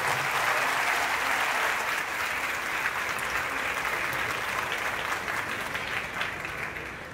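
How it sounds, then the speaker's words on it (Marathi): An audience claps loudly and continuously at a school tobacco-free campus event, a dense sustained round of applause that eases slightly toward the end. "टाळ्या अशा वाजवा का त्या सर्वांना आणि तुम्हाला आनंद प्राप्त झाला पाहिजे"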